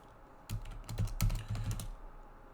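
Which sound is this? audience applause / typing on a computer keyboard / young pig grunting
typing on a computer keyboard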